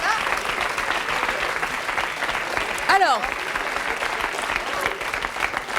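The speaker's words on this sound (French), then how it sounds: "On peut l'applaudir très très fort" Loud, continuous applause from a TV talk show studio audience, steady and dense throughout, with a brief voice rising above it midway.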